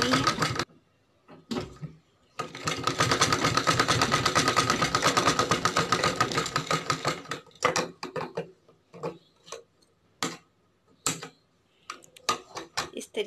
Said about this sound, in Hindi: चलिए लगा लेती हैं इस तरीके से, आपको सिलाई लगा लेनी है।